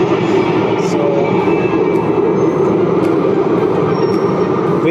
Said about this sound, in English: now we are going to center of the city waiting for the metro, and I think it's coming.